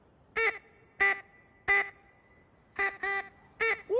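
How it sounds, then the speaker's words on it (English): A duck quacks in a series of six loud, close, nasal calls spaced about half a second apart, with a few coming in a quick pair, over quiet background. "It's a bird call. It's a duck."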